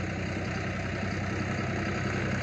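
A tractor engine rumbles steadily nearby as it passes, a low continuous mechanical drone that stays loud and even throughout.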